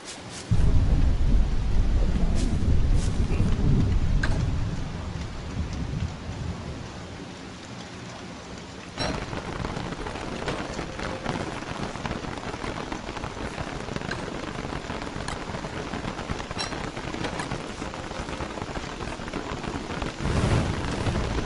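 Steady heavy rain pours throughout in the video game Don't Starve while low thunder rumbles, strongest near the start and again toward the end, with no talking.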